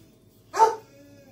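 A dog gives one short whimpering yelp, brief and fairly faint, in a quiet room with a soft hum behind.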